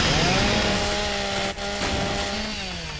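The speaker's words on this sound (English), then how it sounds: "That's what a chainsaw is used for originally." Chainsaw in the Gears of War 3 video game, a loud continuous buzzing engine whine that dips briefly midway and then carries on, with a raspy cutting texture throughout.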